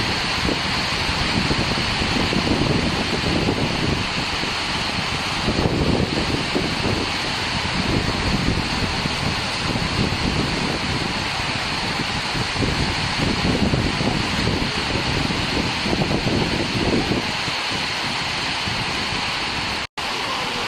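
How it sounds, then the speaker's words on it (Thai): Steady, dense wind and rain near the Srinakarin Dam, a loud, unbroken wash of noise that keeps going without pause, with no voices heard. "ลมทั้งฝน"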